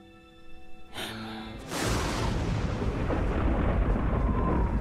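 Thunder from an approaching storm rolls in as a deep, sustained rumble. It swells loudly after a brief crack and musical tones, then continues without any talking.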